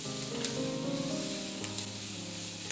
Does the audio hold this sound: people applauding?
no